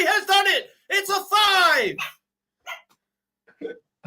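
A puppy gives a few short barks and yips close by, mixed in with and following people talking in a room.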